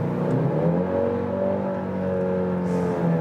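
The 300-horsepower engine of a Genesis GV70 premium SUV accelerates with a smooth, steady rising drone heard from inside the cabin, alone and fairly loud throughout.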